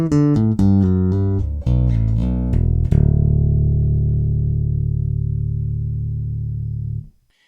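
Chapman Stick played through a guitar and bass preamp with a bass EQ boost and a touch of low mids, a string of separate chords sounding loud and warm before a final chord rings out and sustains for several seconds, then cuts off.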